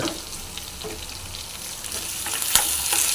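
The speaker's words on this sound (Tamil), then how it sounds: "இது நல்லா ஃப்ரை பண்ணிங்க" A steady oily sizzle of sambar onions frying close by, broken by occasional clinks and scrapes of a spoon against the pan.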